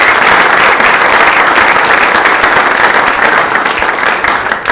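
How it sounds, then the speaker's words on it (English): A packed township committee meeting audience applauds loudly and continuously, dense clapping sustained for several seconds and easing only slightly near the end. "can we give everybody a round of applause?"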